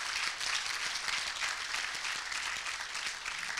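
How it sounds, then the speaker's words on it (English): Sustained audience applause at a blockchain conference lecture hall, a steady dense wash of many hands clapping at even loudness throughout, with no voices over it. "And let us give another round of applause to Eva"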